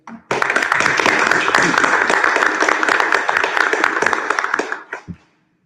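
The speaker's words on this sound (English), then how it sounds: "I'd like to give our staff a round of applause" Loud, dense applause from an audience at a school district board meeting, a sustained wash of many hands clapping together for about five seconds before tapering off abruptly.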